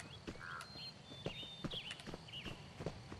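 Horse hooves from a black and white paint mare in the Petz Horse Club video game, a steady walking clip-clop of about eight soft thuds, with brief chirpy game tones and faint background.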